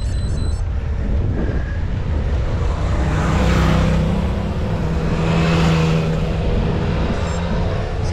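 A car passes on a mountain road near the Col du Turini, its broad engine and tyre roar swelling and fading over several seconds amid steady road noise.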